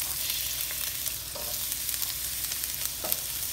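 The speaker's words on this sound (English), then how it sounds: "I honestly don't think there is a better noise than onions going into a frying pan now" Onions sizzling and crackling in a hot frying pan, a bright continuous hiss with occasional sharper pops, close up.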